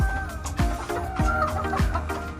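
White Kelson gamefowl chickens cluck and call repeatedly up close, with a rhythmic series of clear, loud fowl vocalizations over a steady background hum.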